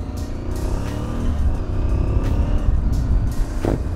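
Aprilia Tuareg 660 motorcycle pulls away with a close, loud engine drone that climbs gradually, plus wind rush, and no voices.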